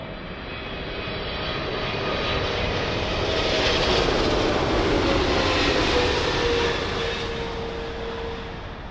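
An American Airlines Boeing 777 lands on runway 27L at London Heathrow, its loud engine roar swelling steadily to a peak mid-pass before easing slightly, with a sustained tonal whine running through the broadband noise.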